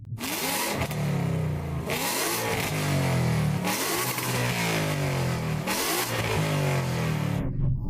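A tuned car engine revs hard in repeated bursts, each climbing quickly and holding against the rev limiter, cut below 5,000 rpm, before dropping, loud and close.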